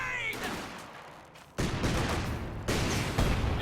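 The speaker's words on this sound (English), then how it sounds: "look at the rate of fire of that Rakitten" Rapid, loud bursts of Raketenwerfer anti-tank gun fire and rocket impacts in a Company of Heroes 2 battle, several sharp broadband blasts stacked close together over a low rumbling background.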